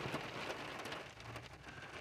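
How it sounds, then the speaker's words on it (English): Steady rain falls on an outdoor surface, a dense even hiss of drops with scattered brighter patters throughout, fairly close and with no voices. "I don't think it's going to stop raining today."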